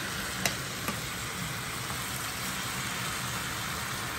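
Bok choy and hot links seasoned with garlic powder and black pepper, stirred in a hot pan, give a steady close sizzle with two faint utensil clicks near the start.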